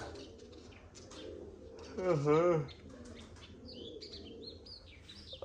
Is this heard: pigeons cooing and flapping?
yes